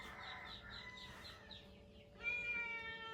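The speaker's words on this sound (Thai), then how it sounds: "อ้น้องแมว" A cat meows outside a family home in Laos, giving a few soft, drawn-out cries against a rural background. A rooster and other fowl call faintly nearby, and a louder cry comes near the end.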